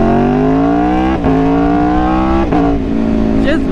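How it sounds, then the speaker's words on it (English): A V4 motorcycle engine revs loud and close, its pitch climbing steadily, then dropping briefly at quick shifts before climbing again. "just listen that V4 rolling, man"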